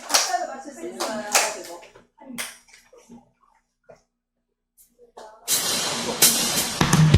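A church congregation at a Sunday teachers' dedication service claps hands together to a rhythm, a loud sustained burst of clapping rising at the end after quieter scattered claps and a voice speaking earlier.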